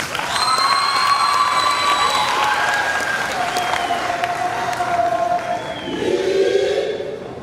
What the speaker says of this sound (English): let's give them a very big round of applause